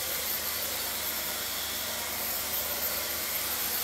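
A blow dryer plugged in on an extension cord during a short-layer and pixie haircut runs with a steady, loud, broadband whoosh that holds even throughout, with no voices over it.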